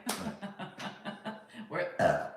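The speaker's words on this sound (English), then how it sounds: "You're making me burp now." A person belches during a casual live stream, one short guttural burp near the end after a stretch of choppy vocal sounds.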